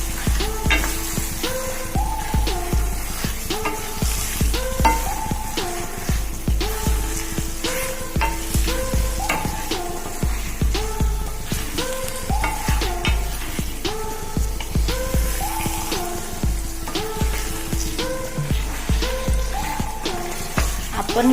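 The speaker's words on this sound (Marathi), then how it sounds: "आपण इथे मटण चांगलं परतून घेतलं आहे." Mutton sautés in a pan for a curry, with a steady loud sizzle and a repeated rhythmic scrape and clink of stirring that runs throughout, with no talking.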